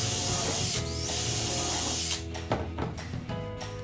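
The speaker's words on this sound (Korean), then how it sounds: "나사로 고정할 위치를 표시한 뒤 드릴로 뚫어줍니다" A power drill bores holes into IKEA wooden bed slats, its loud motor whining steadily up close, then breaking into shorter bursts and a lower, uneven grind as the bit works through the wood.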